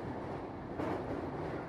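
A train runs along the rails with a continuous low rumble and faint rattling, steady and fairly quiet throughout.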